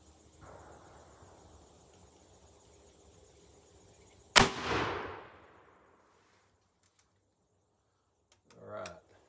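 A .50 caliber black powder rifle fires a Hornady 290-grain FTX bullet: a single sharp, loud report followed by a booming decay lasting over a second, set amid quiet wind noise outdoors, with brief rustling afterward.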